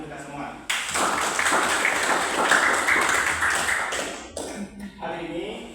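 A classroom of students breaks into roughly three seconds of brisk clapping during a lesson, fading out with a few stray claps, a brief voice before and after.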